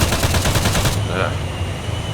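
Rapid bursts of automatic gunfire from the video game ArmA 3 rattle loudly for about a second, then fade into a muffled rumble.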